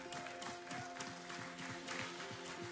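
A church congregation claps together in steady rhythmic applause, filling the room at moderate loudness with a sustained tonal hum underneath.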